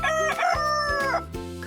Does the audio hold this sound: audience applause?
no